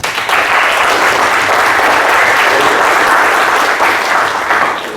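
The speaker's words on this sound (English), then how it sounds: "Guys, a huge applause for sir." Student audience at a business school leadership talk giving a guest speaker a big round of applause, loud, dense and sustained clapping that holds steady for several seconds before easing slightly at the end.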